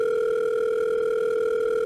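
A telephone ringing tone plays as a call goes out to a friend: one steady, unbroken electronic tone, loud and close, running alone for nearly two seconds before it cuts off abruptly.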